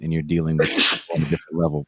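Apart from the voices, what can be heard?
sneeze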